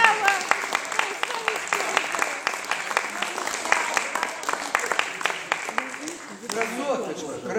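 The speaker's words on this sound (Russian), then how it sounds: "Аплодисменты." Audience applause at a composer's creative evening concert in Moscow, a dense run of clapping filling the room from start to finish, with a voice speaking over it.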